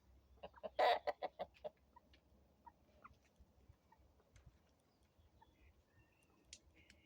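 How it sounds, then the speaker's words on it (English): A rooster clucks close by in a quick burst of sharp clucks near the start, then gives scattered softer clucks over a quiet background. "What are you doing, Rooster?"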